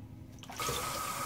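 Running water rinsing dried Tobacco Vanille shaving soap lather away, a soft trickle that swells into a steady close splashing stream partway through, no talk.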